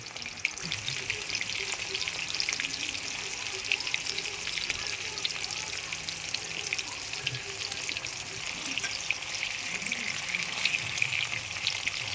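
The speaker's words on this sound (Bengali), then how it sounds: "চিংড়িগুলো দিয়ে দিলাম। এবার লাল লাল করে একটু ভেজে নেব।" Prawns fry steadily in hot oil for a prawn malai curry, a continuous bright crackling sizzle running evenly throughout with no breaks.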